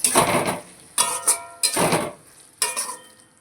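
Spices with Kashmiri chilli powder, turmeric, tomato powder and chilli and tomato sauce sautéed in a pan for a paneer and potato curry: four distinct bursts of spatula scraping and metallic clanks against the pan, close and loud, with no talk.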